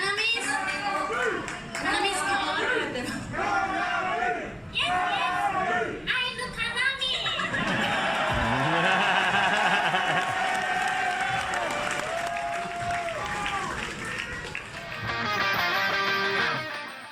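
A concert crowd calls out a guitarist's name during a 2022 US tour show, loud massed shouting and cheering that swells in the middle, mixed with clapping and nearby chatter.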